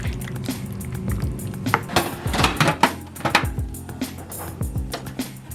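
Pots, pans and utensils clatter and knock in a kitchen as a seafood bake is taken out of the oven, with a run of close, irregular clinks and thuds over a low background hum.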